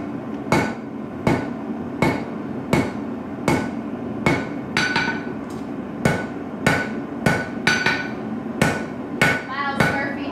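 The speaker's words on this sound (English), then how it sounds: "If I'm forging half on half off like I'm about to now, I use the round die." A hammer strikes hot metal over a round die while forging a Viking arm ring, about fourteen loud, evenly spaced ringing blows close up, some with a metallic bounce.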